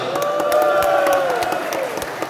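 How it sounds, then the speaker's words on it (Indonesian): A crowd at an Ambon versus Tual badminton match applauds and cheers for Tual, a steady wash of clapping under a sustained tonal whine or voices, lasting a couple of seconds. "Tepuk tangan untuk Tual."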